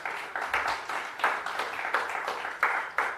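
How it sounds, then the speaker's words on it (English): Audience applause at the Jamaica Diaspora Conference global launch event, a steady patter of many hands clapping with a few louder claps standing out, moderately close. "You heard the clap was particularly loud over here"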